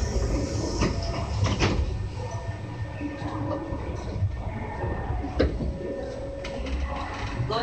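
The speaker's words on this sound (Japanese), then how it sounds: "間もなく扉が閉まります。" Doors of an Osaka Metro Sakaisuji Line 3300 series train slide shut, with a couple of brief knocks and thuds over a steady station and carriage rumble, and faint voices in the background.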